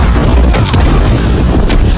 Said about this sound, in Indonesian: Hingga akhirnya Sam berhasil menusuk dengan satu sayapnya lalu meledakkan dirinya dengan Red Hulk.